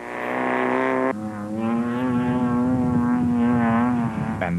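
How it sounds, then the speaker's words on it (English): A Land Rover race car competing in the 2005 Carnival City 400 roars past loudly, its engine holding a steady buzzing drone with a brief gear-change dip, then climbing in pitch as it revs. "And that's the sound of the ever-popular Landy with the two Moffats in control."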